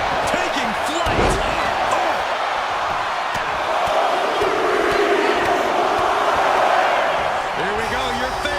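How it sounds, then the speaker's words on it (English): An arena crowd in the WWE 2K25 wrestling game roaring in a dense, steady wall of cheering, with a sharp thud early on and commentary talking over it. "The crowd is counting it down."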